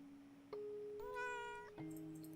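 A cat in the horror game Layers of Fear: Inheritance gives a couple of faint, drawn-out meows, one rising and falling mewl standing out over a steady low tone, with no talk.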